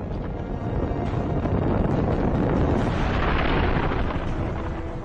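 A massive, continuous roaring rumble of a mountain-sized asteroid striking the ocean near the Yucatán Peninsula, deep and loud, sustained for several seconds without pause.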